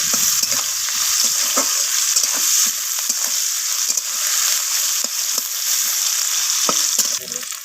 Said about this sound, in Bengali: আর দিয়ে দিলাম কেটে রাখা পেঁয়াজগুলোকে। তো সমস্ত কিছু আমি একটু ভাজা করে নেব।